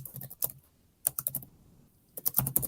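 Computer keyboard typing during an online search, quick bursts of clattering keystrokes separated by short pauses, close and clear with no speech.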